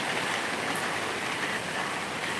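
Steady rain falling on surfaces in Khao Lak, Thailand, a continuous dense hiss of drops with no talking, constant and fairly close.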